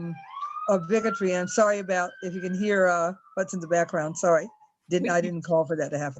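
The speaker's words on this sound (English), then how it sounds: "It was a fire engine." A wailing fire engine siren rises and falls in the background, steady and fairly distant beneath continuous close speech from a person talking throughout.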